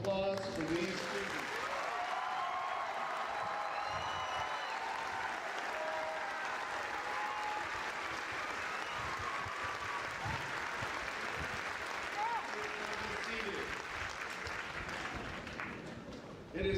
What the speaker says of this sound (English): Please join us in a round of applause for these students.